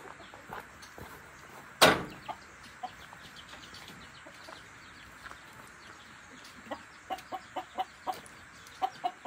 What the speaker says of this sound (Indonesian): Ini ada ayam ni. Ayam sabung.